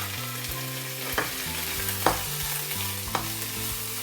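Beef and chopped onions frying in a pan for kare-kare, a steady sizzle with a few sharp scraping stir strokes and clinks from a utensil, close and clear with no talking.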